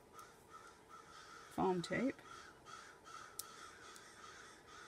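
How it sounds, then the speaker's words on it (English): Crows outside a window give a couple of loud, close caws in quick succession, with a person speaking quietly indoors around them. "there's a bunch of crows outside my window"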